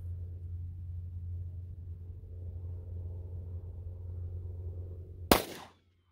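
A single loud, sharp 9mm pistol shot from a Taurus GX4 cracks out near the end over a steady low rumble, then cuts to silence.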